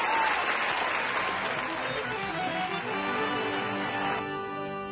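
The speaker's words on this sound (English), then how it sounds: "Give him a big round of applause." Crowd applause at a traditional chutney music show at Chutneyland 2021 welcoming the performer, a sustained wash of clapping and cheering that fades slightly toward the end, with faint musical tones and voices underneath.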